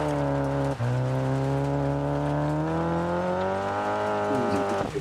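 Rally car engines in the Dirt Rally video game, a steady loud high-revving drone with rising harmonic pitch, a brief dip and gear change near the start and another shift toward the end, no talk.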